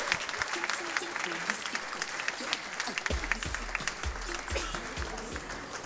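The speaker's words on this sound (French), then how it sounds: "Sous vos acclamations, mesdames, messieurs." Festival audience at Zéro Polémik 2019 applauds and cheers steadily throughout, dense clapping with shouts, while an announcer's voice and thumping low bass sound over the crowd in the second half.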